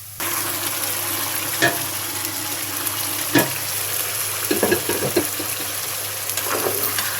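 Pressure-cooked beef sizzles steadily in a pan with fried onions for a bagari beef dish, with a few sharper clatters of stirring and scraping against the pan.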